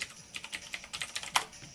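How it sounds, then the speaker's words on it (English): Loud clacking of a computer keyboard as someone types quickly at a desk, an irregular run of sharp key strikes close to the microphone, with one heavier hit near the end and no speech. "Your keyboard has so much to say about that. It's a loud keyboard."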